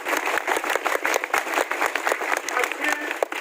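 An audience at a spiritual discourse in an ashram claps steadily in dense, continuous applause for several seconds, fairly close and loud.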